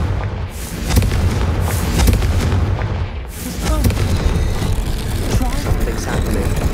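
Confringo blasting spell explosions in the Hogwarts Legacy video game, loud repeated booms and crackling blasts over continuous game noise.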